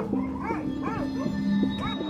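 Several dogs kept outdoors in Svalbard, in the Arctic, give a rapid string of rising, arching yelps and howls, close and fairly loud over a steady low hum.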